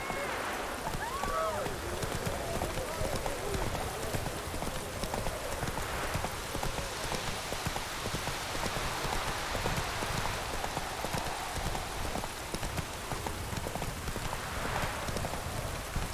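A horse's hooves clip-clop at a steady gallop in The Witcher 3: Hearts of Stone, continuous and fairly close, layered over a dense hiss of rain falling on surfaces.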